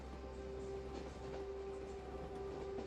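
Ghan Express passenger train running on rails, a steady continuous rumble with a sustained tonal hum throughout, close and even in loudness, no voices.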